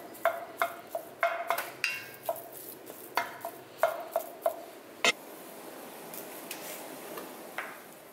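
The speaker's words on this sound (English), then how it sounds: "You're going to dump in your ground beef and break it all up." Ground beef is broken up with a utensil in a Dutch oven, producing a quiet, irregular run of taps, clinks and scrapes against the pot, each short and close.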